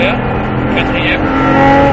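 A Porsche 997 engine accelerates in fourth gear, a steady loud drone that rises slightly as the car pulls. An instructor talks over it throughout.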